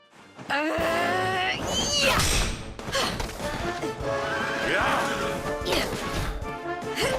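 Chaotic Dragon Quest XI action with crashes and thuds, a horse whinnying briefly amid the clamor, and voices shouting over it.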